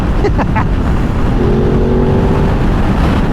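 A 2024 Ducati Desert X Rally on knobby tires cruises along a highway, giving a steady loud roar of engine and rushing wind with a brief sustained tonal whine partway through.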